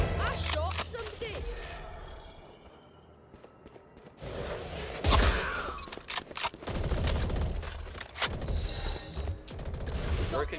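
Gunfire bursts in a tactical shooter video game round, loud sharp shots clustering mid-clip amid game effects, with players talking over the action.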